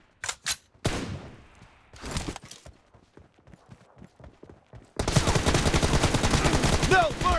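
Video game match gunfire: a few sharp single shots and scattered cracks, then a dense, loud burst of rapid automatic fire rattling continuously to the end.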